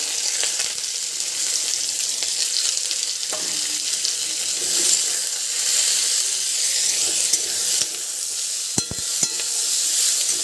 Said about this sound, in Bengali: এবার দেব অল্প করে তেল। হয়ে গেছে, এবার দিয়ে দেব পেঁয়াজ কুচি,